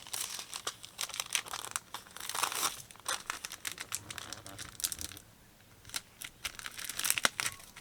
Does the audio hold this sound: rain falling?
no